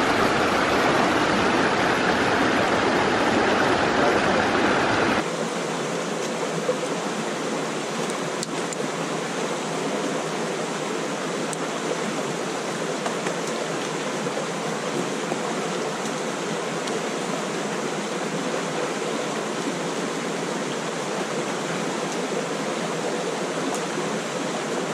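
A forest river and waterfall roar in a steady, broadband rush. The sound is louder and fuller for the first five seconds, then settles into a continuous, even flow with no voices.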